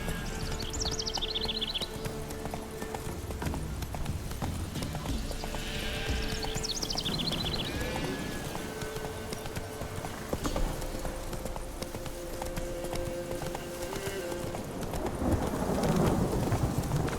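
Horse hooves clip-clop at a steady gallop in the Witcher 3 video game, moderately faint and continuous, with occasional whinnies and a low rumbling of wind and thunder underneath.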